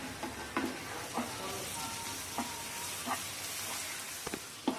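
Ginger garlic paste frying in a pan, a steady close sizzle with soft crackle and periodic scraping stir strokes, no voices.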